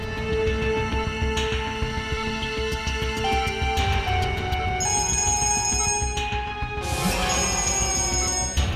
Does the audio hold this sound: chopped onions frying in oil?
no